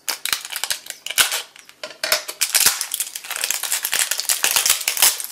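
A package of masking tape being torn open up close, with dense crinkling and crackling of plastic wrap in quick irregular bursts that run the whole time, fairly loud, with no voices.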